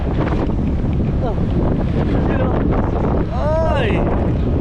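Strong wind buffets the microphone on a moving vehicle, a steady loud roar of gusts with a few faint voices and a brief whistling tone near the end.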